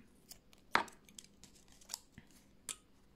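Scissors snipping crochet yarn: one crisp, quiet cut followed by a few fainter clicks and snips, close by in an otherwise quiet room.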